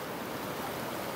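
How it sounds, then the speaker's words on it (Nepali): Waves from the Kali Gandaki river lap against its bank near Rampur in Palpa, giving a steady, soft rushing wash of water with no break. "यस्तो मजाले छाल हानिराखेको छ"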